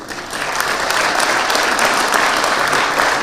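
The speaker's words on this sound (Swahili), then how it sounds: "wasimame tu ndio tuwapigie makofi" Applause for independent politicians at a Kenyan political gathering: sustained, dense clapping from a large crowd, loud and steady throughout.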